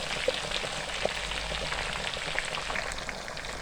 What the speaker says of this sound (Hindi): माशाल्लाह ज़बरदस्त हमारी फिश फ्राई हो रही है।